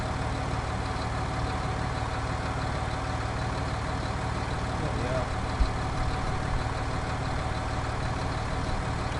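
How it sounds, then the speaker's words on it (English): Tractor engine in Farming Simulator 19 running at a steady, loud idle-like drone throughout, with no change in pitch or rhythm. "I might turn the actual tractor noise down a bit."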